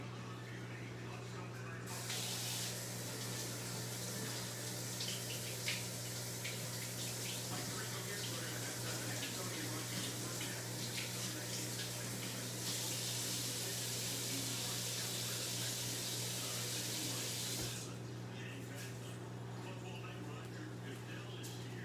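Kale and other vegetables are rinsed under a running kitchen tap, a steady loud water rush that starts after about two seconds and stops near eighteen seconds, with softer background sounds before and after.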